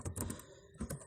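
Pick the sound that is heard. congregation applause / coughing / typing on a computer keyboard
typing on a computer keyboard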